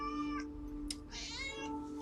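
A house cat meows close by, a few clear, tonal calls with rising and falling pitch over two seconds, in a quiet indoor room during a live tarot reading, with no talking.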